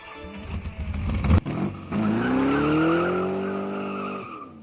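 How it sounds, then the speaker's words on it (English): A sports car in a video game peels out with a loud, rising tire squeal over engine revving, the screech sustained for a couple of seconds before fading. "Did God just peel out in the sports car?"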